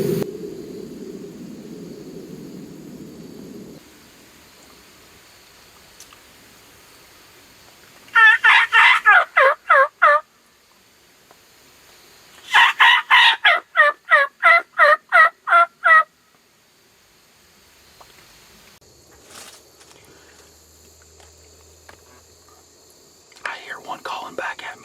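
Wild turkeys gobble from the woods in two bursts of rapid, rattling calls, each lasting a couple of seconds, fairly loud against a quiet outdoor background with a low rumble at the start.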